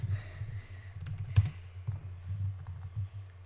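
Someone types on a computer keyboard during a Minecraft session, a quick run of soft, close clicks and taps with one sharper keystroke partway through, against a faint hum.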